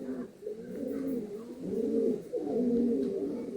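Andhra pigeons coo nearby in a series of low, throaty, rolling calls that swell and fade over a few seconds, with faint background noise and no talking.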